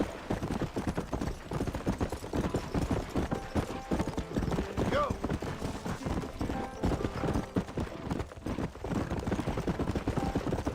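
Hooves of a tiring horse gallop in Red Dead Redemption on PC, a loud, fast, steady clip-clop drumming through the whole stretch over a dense game soundscape.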